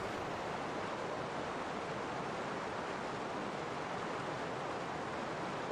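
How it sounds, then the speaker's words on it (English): A river flowing in the video game Heaven's Vault gives a constant, even rush of water, dense and unbroken across the whole stretch, with no talking over it. "So much water. More water than I've ever seen in my life."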